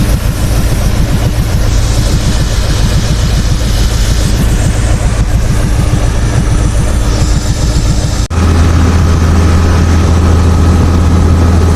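Abrasive blasting on a tugboat hull at a shipyard at night, a loud, continuous roaring hiss with a heavy low rumble, steady for the whole stretch and briefly cutting out before resuming.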